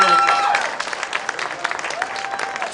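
An audience at a César Chávez Day awards event applauds a youth award winner, a brief burst of clapping that thins into scattered claps, with a voice speaking at the start.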